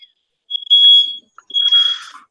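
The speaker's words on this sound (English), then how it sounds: "Someone changed their fire alarm batteries." A smoke alarm beeps twice, with loud, shrill electronic chirps close by and a short silence between them.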